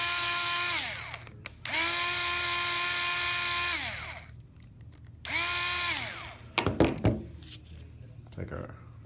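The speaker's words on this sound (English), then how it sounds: "We're going to use a drill." Power drill removing screws from the wiper end plate of a Solinst Eureka Manta: two close whining motor runs that rise, hold steady and wind down, followed by clunky handling taps.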